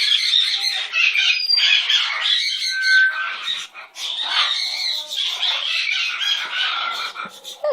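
A pet parrot named Gonzo squawks loudly and repeatedly at close range, harsh calls running almost without pause, with a person's voice faintly in the mix.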